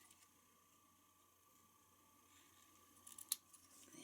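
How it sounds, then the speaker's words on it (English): Scissors snip through ribbon in a quiet room, a single small crisp cut near the end after some faint handling rustle, close and soft, with no talking. "I'm going to go ahead and cut that."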